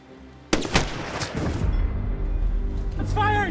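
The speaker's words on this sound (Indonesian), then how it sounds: "Kemudian Julius menembak satu persatu polisi yang datang dan inilah aksinya." Gunfire in an action film as a man shoots at police officers: a sharp loud shot opens, followed by a rumbling echoing tail and further blasts, with a voice heard briefly near the end.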